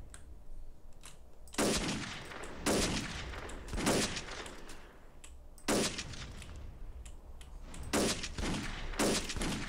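Gunfire in the GTA multiplayer video game, repeated loud bursts of automatic fire in several clustered volleys separated by brief pauses, with faint single shots between them.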